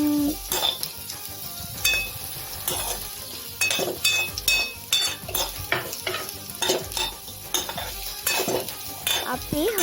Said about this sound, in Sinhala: අපි හොඳට දැන් මේ ටික කවලම් කරගන්න ඕනේ.